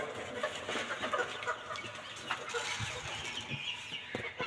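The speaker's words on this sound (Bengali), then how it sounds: "মুরগিগুলোকে খাবার দিলে ওরা এক্ষুনি খাওয়ার জন্য ছটফট করবে।" Helmeted guineafowl and chickens cluck and chatter excitedly at feeding time in a backyard coop, a busy, close cluster of overlapping calls with occasional wing flaps and shuffling.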